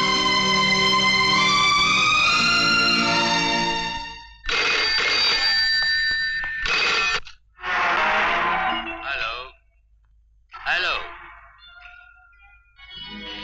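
A telephone rings with a melodic electronic tone for several seconds, then breaks off into brief bursts of sound and muffled vocal noises.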